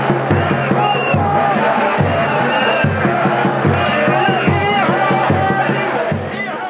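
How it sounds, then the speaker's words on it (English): Sufi dervishes in a Sudanese ceremony chant La ilaha illa Allah in a steady, repeating rhythm while marching, a dense crowd of voices with a pulsing low beat, loud and close throughout. "As they march, the dervishes repeatedly chant La ilaha illa Allah"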